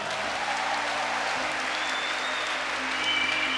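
A church congregation bursts into sustained applause, an even wash of clapping from many hands that carries on steadily with a faint tone in the background.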